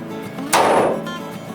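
A hammer strikes a center punch on metal once after a short pause, a sharp metallic strike with a brief bright ring that fades over background hum.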